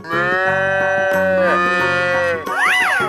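A cartoon cow in a 3D animal slide game lets out a long, loud, tonal moo lasting most of the moment, ending in a rising, wavering call.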